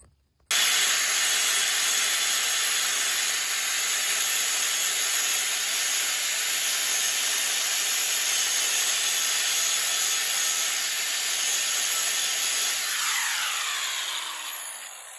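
Disc mower blades being sharpened on a New Holland TN60A tractor: a loud, steady abrasive grinding hiss with a thin high whine runs unbroken for about fourteen seconds, then winds down and fades at the end. No talking.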